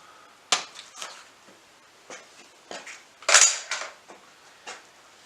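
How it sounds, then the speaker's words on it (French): Bar clamps being loosened on a wooden barn door under restoration: a string of sharp metallic clicks and creaks, one loud snap and several softer knocks spaced irregularly, close by with no talking. "je peux desserrer mes serre-joints"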